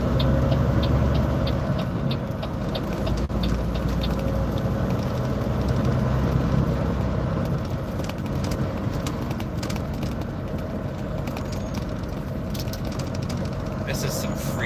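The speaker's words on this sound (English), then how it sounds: "This is some freaking traffic right now." Dense city traffic around St. Louis rumbles steadily from inside a moving car, a low continuous road and engine drone with passing vehicles, while a person talks over it.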